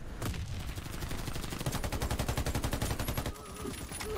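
Sustained automatic AK-47 fire in the shooter Warface, a steady fast stream of loud, evenly spaced shots lasting several seconds before stopping, with a faint tone afterward.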